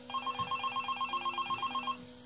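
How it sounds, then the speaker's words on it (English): A telephone rings in the video game Five Nights at Candy's, a bright electronic trill repeating rapidly for about two seconds with no voices. "The phone is ringing."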